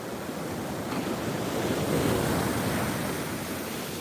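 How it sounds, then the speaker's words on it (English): Ocean surf rolls onto the beach at Jupiter Island, a steady broad wash of breaking waves mixed with wind noise on the microphone, no voices. "We're just checking the waves here on Jupiter Island."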